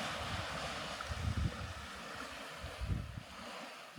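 Atlantic Ocean waves washing onto a beach at sunset, a steady low surf rumble with soft swells rising and falling, heard alone with some wind buffeting.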